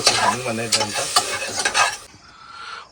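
Brinjal curry cooking in a pan on a lorry stove, with loud sizzling and repeated scraping stirs for about two seconds before the frying settles into a quieter hiss.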